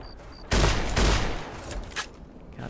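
A cut-down shotgun fires in the video game The Frontier, loud heavy blasts with a booming burst and a second close report, then a fading rumbling tail and a small later thump.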